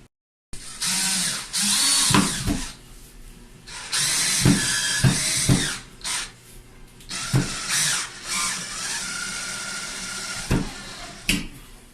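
A power drill drives two screws into a wall to mount part of a broken towel rail, with loud whirring bursts of varying length and short pauses and clicks between them, close up and with no talking.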